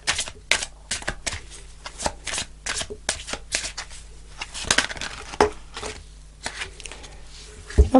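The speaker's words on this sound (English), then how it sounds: "let's pull an angel card" Tarot angel cards being shuffled by hand, a run of crisp riffling and slapping card noises, close and moderately loud, continuing in uneven bursts without speech.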